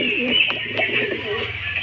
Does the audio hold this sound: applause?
no